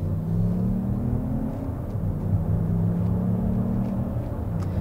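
A Lexus RX 500h hybrid SUV accelerates normally, giving a steady low engine and road rumble with a smooth rising drone that stays even and subdued throughout.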